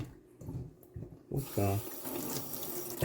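A kitchen tap switches on partway through and runs in a loud, steady stream for rinsing, following a moment of low talking at the start.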